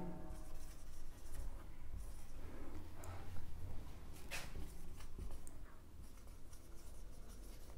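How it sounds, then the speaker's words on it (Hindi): Marker or chalk writing on a board during an electrical engineering lecture, steady scratchy strokes with short pauses, fairly close and moderately quiet. "यहां पे मैं लिख देता हूं"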